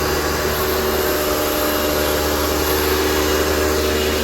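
A Karcher K2 pressure washer running at full pressure after a repair, a loud, steady, even motorized roar with a constant hiss of spray, unbroken throughout and with no voices.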